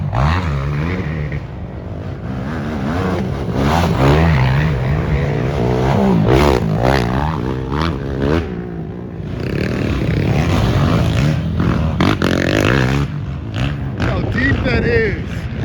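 Quad ATVs racing on a dirt track at a GNCC cross-country event, engines revving and droning loudly and steadily, with people talking over the motor noise throughout.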